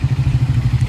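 A motorcycle engine running at a bikers' club ride start, a close, steady low thumping putter with a regular pulsing rhythm.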